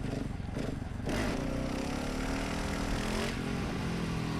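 A motorcycle engine held at open throttle during a wheelie, a loud, steady mid-pitched drone that rises and thickens after the first second and then stays sustained and close.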